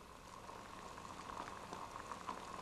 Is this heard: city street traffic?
no